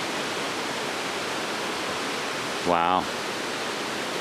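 Barron Falls waterfall rushes in a steady, broadband roar that fills the whole scene, with a brief spoken exclamation near the end over the constant water noise.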